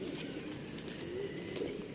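Short-tailed pigeons coo softly in a loft, a low murmuring call with faint chirps over a steady background hum.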